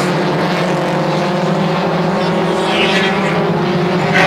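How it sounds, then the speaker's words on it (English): Mini stock race cars at Sunset Speedway roar together in a loud, steady engine drone, a dense pack of motors sustained near and continuous throughout. "Start zone, racing with the mini stocks."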